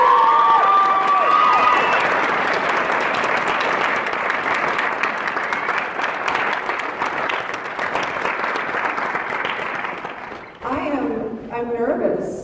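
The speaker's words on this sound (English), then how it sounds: "would you give him a round of applause?" An audience at a retreat gives a loud, sustained round of applause for Randy, dense clapping with some cheering that fades out near the end as a voice begins to speak.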